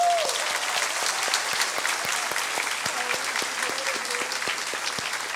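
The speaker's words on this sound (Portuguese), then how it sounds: "vamos receber o Nishio com salva de palmas ali" Applause from a Baptist church congregation, continuous moderate clapping that holds steady, with brief voice-like tones and light talk faintly underneath.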